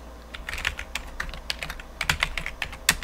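Close, brisk typing of code on a computer keyboard, with irregular bursts of sharp key clicks and no talk.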